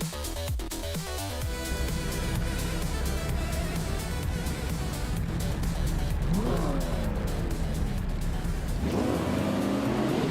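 Race cars in a video game roaring off the start at Buddh International Circuit, engines revving hard and continuously with rising whine and brief tire squeal, loud and close throughout.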